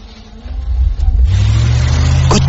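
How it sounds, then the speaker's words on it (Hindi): A car engine cranks and catches close up, then settles into a loud, steady running rumble on a cold winter morning. "मैं गाड़ी में बैठा और गाड़ी स्टार्ट की।"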